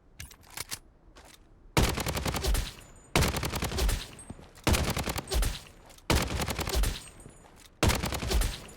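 Galil rifle gunfire in the video game Blood Strike, several rapid bursts of automatic fire, each a second or so long, separated by brief gaps.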